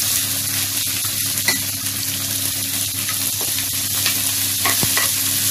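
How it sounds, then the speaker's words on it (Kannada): Curry leaves sizzling in hot oil for a stuffed brinjal curry, a loud, dense, continuous crackle that stays steady with only small stirring ticks on top and no voices. "ಕರಿಬೇವು ಹಾಕ್ತಾ ಇದ್ದೀನಿ."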